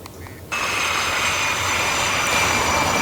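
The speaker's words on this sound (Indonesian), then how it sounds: "kita lihat jet tempur FA-18 Super Hornet yang Anda lihat ini lepas landas di atas USS Abraham Lincoln, kapal induk." An FA-18 Super Hornet fighter jet takes off from the aircraft carrier USS Abraham Lincoln, heard as a sudden, loud, sustained jet roar with a high whine over it.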